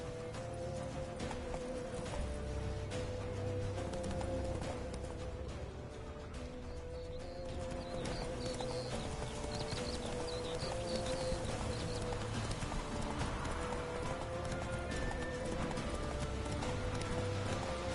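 Horse hooves clip-clop steadily at a gallop in The Witcher 3, a continuous rhythmic clatter under busy game music and ambient sound, with an occasional whinny.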